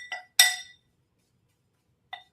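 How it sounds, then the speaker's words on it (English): A spoon stirs oatmeal, melted butter and sweetener together in a bowl, giving three brief, close clinks against the dish: two in quick succession, then a pause and one softer tap. "we're just going to mix the oatmeal and the melted butter and the sweetener all together"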